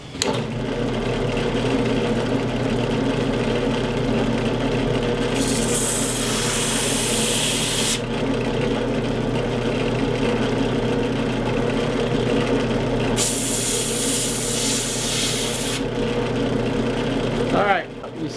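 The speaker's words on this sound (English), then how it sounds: "I'm going to go up the drill press and I am going to sand this down" A drill press hums steadily throughout, and twice a harsh gritty sanding hiss rises over it for a few seconds before stopping as it sands a wooden bow laminate.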